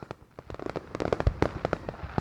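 Fourth of July fireworks from a NatureSpace app soundscape: a rapid run of sharp crackling bangs and pops, some louder booms among them, dense and fairly close, with no voices.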